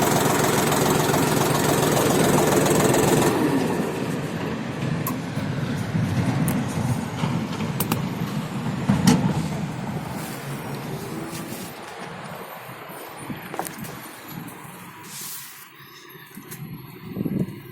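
A Dongfeng DF 244 mini tractor engine chugs and knocks steadily nearby, a rough continuous running sound that gradually quiets toward the end.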